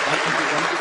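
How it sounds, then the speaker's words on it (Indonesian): An audience at a Tiens Indonesia talk claps loudly and steadily, a dense and even burst of applause that fills the whole moment with no break. "Jadi tepuk tangan sekali lagi buat lingkungan One Vision."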